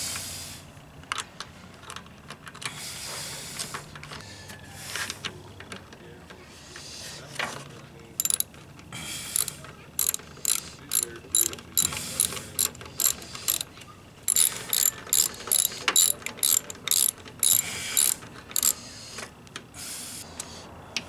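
A ratchet snugs 5/16 bolts on a church mower, rapid clicking bursts repeating in quick rhythmic runs, close and crisp, with handling noises and pauses between strokes.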